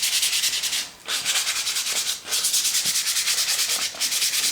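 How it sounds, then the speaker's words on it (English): Wood being hand sanded with 320 grit paper, a close, steady run of rhythmic back-and-forth rasping strokes with brief pauses between passes, no voices. "I'm just doing some finishing off sanding by hand of the areas that I used"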